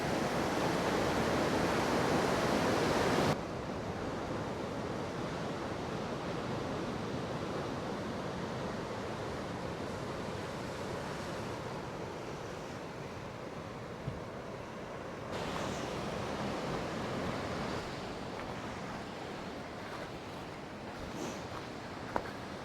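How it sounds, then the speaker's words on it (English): Rough, heavy surf pounds the rocks at Granite Island, Victor Harbor, a steady broadband roar of breaking waves with wind noise that swells loud at the start, then settles into a continuous wash. "Angry sea."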